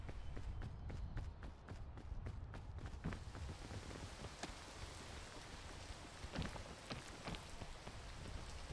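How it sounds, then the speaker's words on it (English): Rain falls steadily in the climbing game PEAK, a constant close hiss of drops with rhythmic footstep-like thuds early on and a few sharper splashes later. "The rain makes things slippery, thus you need like more energy to climb"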